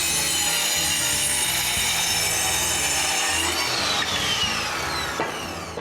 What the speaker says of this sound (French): Il faut les couper à bonne longueur.